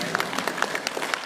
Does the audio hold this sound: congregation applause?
yes